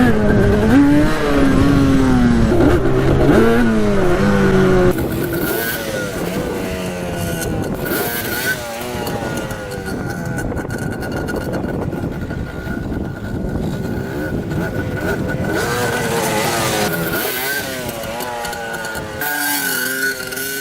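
A Yamaha Banshee ATV runs fast off-road, its engine roaring loud and close with rising and falling revs and continuous wind and drivetrain noise.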